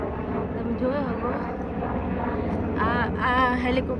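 Helicopter passing overhead through a residential area, a steady droning rumble with rotor-like texture that swells slightly toward the end, with a person talking over it throughout.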